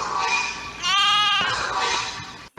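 A single wavering sheep bleat, loud and close, over a steady background hum.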